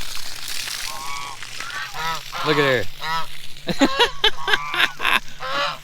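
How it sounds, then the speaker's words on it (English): Several domestic geese honk repeatedly near a pool of clean water, loud close calls in uneven bursts, with a person briefly speaking between them. "The old geese, they can't wait to get in that clean water."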